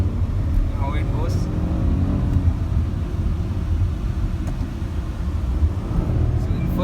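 A Tata Altroz car driving in first gear, with a steady low engine and road rumble running throughout and someone talking over it.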